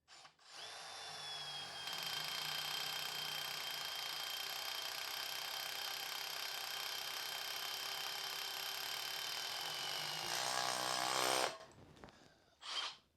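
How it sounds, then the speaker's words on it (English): A Milwaukee M12 drill drives a step bit through steel with a loud, steady high-pitched whine and grinding that runs nearly ten seconds, shifts briefly in pitch near the end, then stops, followed by a short clunk. "We can punch through and see how these drills go. So first up, throw on a couple of these into the steel."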